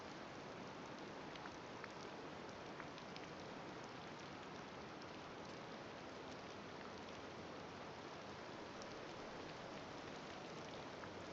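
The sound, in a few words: rain in the video game Disney Dreamlight Valley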